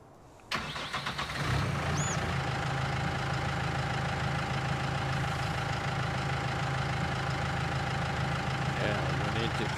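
A tractor engine in the video game Farm Simulator cranks to life and then settles into a steady, close, rumbling idle that holds evenly throughout, with a voice talking briefly over it.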